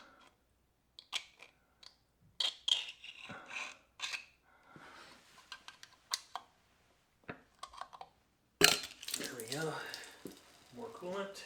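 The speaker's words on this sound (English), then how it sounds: "Go ahead and scrape a little bit of that out." A tool scrapes gunked-up RTV sealant off the thermostat of a Nissan Skyline GTR RB26 engine in short, intermittent rasping strokes, close up, ending with a louder burst of scraping.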